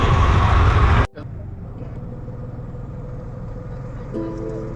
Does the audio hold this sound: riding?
yes